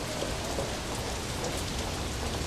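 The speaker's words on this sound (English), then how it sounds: "A heavy rain begins to fall over the city" Heavy rain pours over a city street, a dense, steady hiss of drops striking hard surfaces with no break, loud and close throughout.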